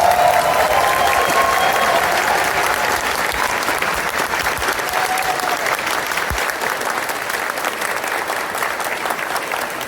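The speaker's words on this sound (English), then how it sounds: "So big round of applause again for them, please." Loud, sustained audience applause at a furry convention's opening ceremony, with dense, even clapping from a large crowd filling the hall for the whole stretch.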